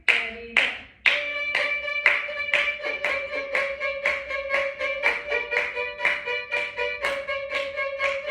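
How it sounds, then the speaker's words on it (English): A teacher claps a steady tempo at a string lesson, sharp evenly spaced claps close by while string instruments play along, with no talking. "I'll clap for you so you guys hear the tempo a bit better."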